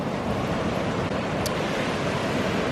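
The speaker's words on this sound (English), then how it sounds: "some of the water comes through that little canal, and you can just see a little bit of water trickling down" Water trickles down through a small canal off a rock shelf, a steady broadband wash of flowing water heard outdoors with a constant hiss and no clear individual drips.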